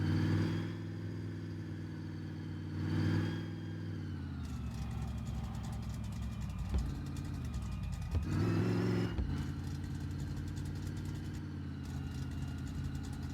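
An old car's engine drones steadily while driving, a loud continuous rumble with a harmonic hum that shifts in pitch as it revs and eases, with no talk over it.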